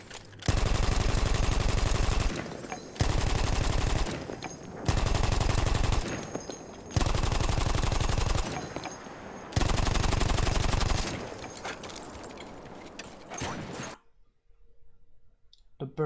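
Bursts of automatic weapon fire in Battlefield 1, five long sustained volleys separated by short pauses, loud and close, followed by a ragged trailing stretch and then near silence, with a player talking between shots.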